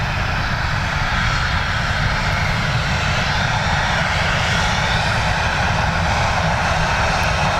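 A KLM passenger jet at Dublin Airport roars loudly and steadily, its engine noise filling the air as it passes close by, with no talk over it.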